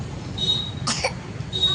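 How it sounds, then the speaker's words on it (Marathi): A woman gives a single short, sharp cough, close and fairly loud, against a low background hum. "खोकला आला"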